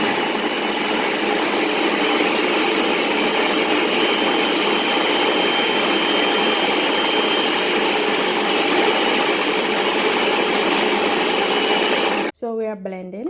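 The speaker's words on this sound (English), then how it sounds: "So we are blending." A blender runs continuously and loudly, churning peanut porridge made with green banana, oats and water in a steady roar. It stops near the end, and a voice follows.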